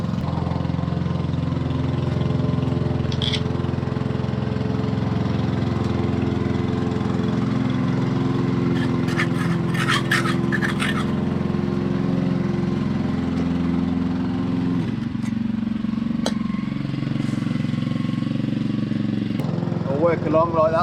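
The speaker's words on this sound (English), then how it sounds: "Michael gets ahead of me with the lawn mowing" A lawn mower engine drones continuously while mowing a lawn, steady and fairly close for the whole stretch, with a few faint clicks and brief bursts of other noise over the hum.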